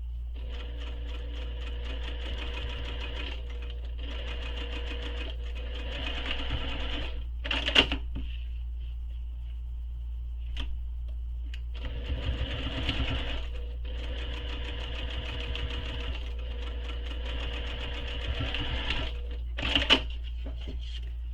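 A sewing machine stitches a backpack strap in several steady runs of rapid mechanical whirring, each separated by short pauses and a few sharp clicks, heard close up and alone.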